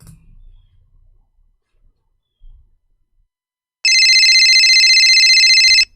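Cell phone ringing on an outgoing call, a steady electronic ring tone that starts after a few seconds of near silence and continues loud and unbroken for about two seconds.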